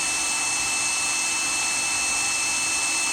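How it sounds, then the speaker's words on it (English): Rotary friction welding machine in the burn-off phase, a steady loud broadband whir with a bright high-pitched tone running continuously throughout, no talk. "Here we can see the initial phase of friction welding as the burn-off starts to happen."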